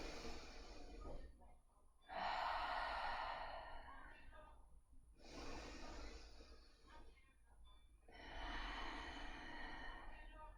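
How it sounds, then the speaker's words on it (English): Three slow, deep breaths taken at the start of a yoga session on a mat, each a long airy inhale-exhale swell separated by short quiet pauses, close and fairly soft, with no talking. "So 3 deep breaths."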